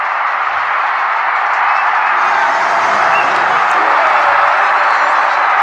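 A large baseball stadium crowd roars and cheers loudly and continuously after a grand slam home run in a KBO postseason game.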